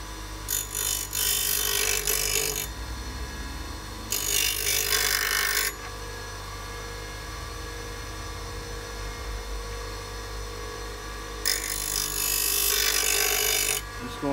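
Axminster AT200HDG heavy-duty bench grinder sharpening an old Beta chisel: three loud bursts of high grinding against the wheel, each lasting one to two seconds, over the motor's steady hum.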